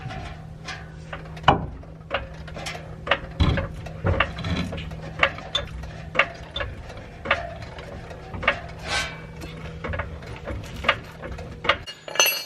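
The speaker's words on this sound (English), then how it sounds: "And then we'll just jack the rear end back up." Mechanical clicks, clinks and ratcheting from a jack raising the rear end of a Chevrolet Silverado pickup, sharp repeated strikes over a steady low hum, close by.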